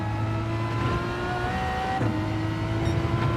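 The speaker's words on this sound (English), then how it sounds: "Slight lift here before accelerating out to the last corner." Engine of a race car accelerating out of a corner in Gran Turismo 7 after a slight lift, a steady rising drone with shifting harmonics, close and continuous, with no talk.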